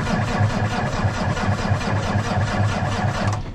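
A Cummins diesel in a custom Peterbilt truck cranks slowly on a cold start after sitting for days, the starter turning it over in a steady, even rhythm for several seconds without the engine firing.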